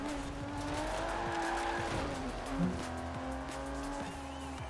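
Engine whine of a car racing in Forza Horizon 4, steady revving with gear-shift pitch changes and faint tire squeal, continuous and fairly loud.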